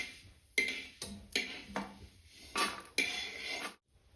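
Roasted lentils and peanuts scraped out of a pan onto a plate, making about seven distinct metallic scrapes and clatters in an uneven rhythm, close and fairly loud.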